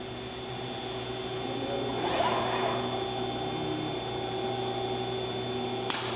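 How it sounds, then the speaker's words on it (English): A robotic radial wheel brush deburrs a part with a continuous whirring, abrasive hum over steady machine drone, a rougher swell of brushing contact midway, then a brief shift near the end. "delivers it to the radial wheel brush for deburring"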